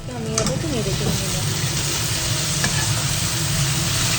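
Chicken butter masala sizzles in a pan over a low flame while being stirred, a steady close frying hiss with scraping stir sounds, a faint voice briefly in the background.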